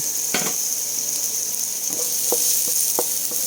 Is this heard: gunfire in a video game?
no